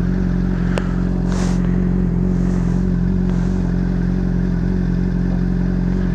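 A Honda CBR600RR sport motorcycle being ridden, its engine droning in a steady, loud, close hum with a faint rev rise and a few light clicks and clatters, no voices heard.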